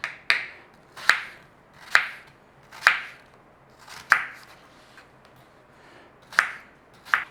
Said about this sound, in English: We want to be dicing.